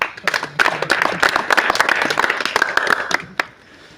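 Audience at a Punjabi mushaira during a wedding program in Khanewal claps in a brief burst of scattered, fairly close handclaps lasting a few seconds before fading out.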